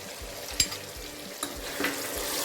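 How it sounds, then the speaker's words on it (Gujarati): Green onions frying in hot oil with tomato for Kathiyawadi undhiyu, crackling and sizzling close up while being stirred, with a few sharper spatters. "હવે આપણે લીલા કાંદા નાખીશું."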